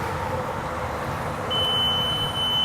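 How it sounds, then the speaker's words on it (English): A CAT generator's fault alarm sounds as a steady high electronic tone that starts partway through and holds, over a continuous low mechanical hum. "if you want to silence the alarm, hit the silence button"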